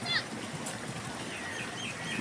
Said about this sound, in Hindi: बतखें भाई साहब अभी पानी में नहाने आ गई हैं बतखें